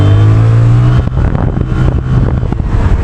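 VLF Mobster motorcycle accelerating, a loud close engine drone that steps up through gear changes with repeated revving pulses and rising pitch.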